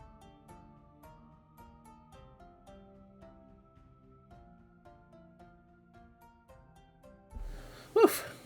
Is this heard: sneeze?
yes